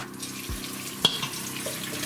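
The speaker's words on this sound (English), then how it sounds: "you wash the potatoes, but don't peel them." Tap water runs steadily as potatoes are rinsed under it while cooking, with a brief clatter partway through the spray.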